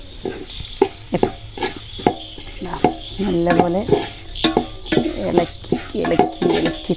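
Onions sauté in a pan with coriander and pepper powder. A spatula scrapes and clinks in a quick, rhythmic stir over a soft sizzle, close up.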